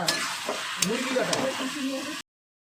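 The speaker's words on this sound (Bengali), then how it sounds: "তার এখানে মাংসটা দিয়ে দিয়েছি ভাজা চলছে এখন" Chicken pieces fry in a pan with a close, continuous sizzle and a few clicks, under a voice talking.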